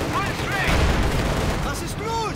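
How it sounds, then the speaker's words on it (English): Continuous heavy artillery bombardment and explosions in Company of Heroes 2 rumble as a dense, loud bed of blasts while a commentator talks excitedly over them. "Grenadier's being bombarded"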